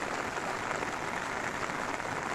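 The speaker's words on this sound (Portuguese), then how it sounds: "Chovendo grosso e forte." Heavy rain falls hard and steadily outdoors in a dense, continuous hiss, fairly faint overall with no distinct breaks.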